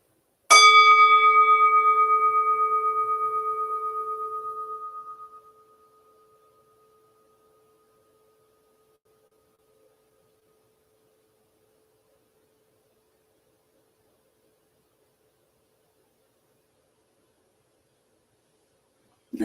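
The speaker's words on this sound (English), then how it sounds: "as I ring the gong, just retain the openness as much as you can, letting in the sound of the gong" A meditation gong is struck once and rings loud and near, its bright shimmering tone decaying steadily over about five seconds until it fades into silence.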